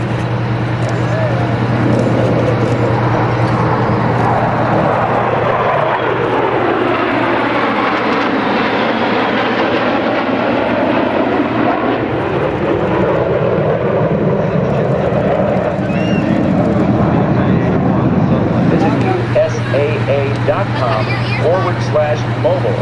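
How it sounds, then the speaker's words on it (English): Fleet aircraft from NAS Oceana making a flyby at an air show, a loud jet roar swelling from the distance, peaking overhead and fading away, with a public address announcer talking. "from your left, the aircraft of NAS Oceana and the fleet flyby."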